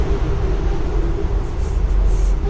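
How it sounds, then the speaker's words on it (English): A train rolls past outdoors at a steady, fairly loud rumble with broadband rush throughout, no pauses or voices over it. "train's going past now"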